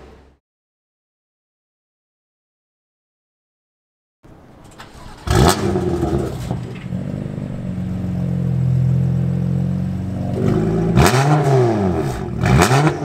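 A BMW F80 M3 fitted with a VRSF catless downpipe and a non-resonated equal-length exhaust starts after a silent pause, then revs sharply several times, with throaty rises and falls and a steady, loud idle between the revs.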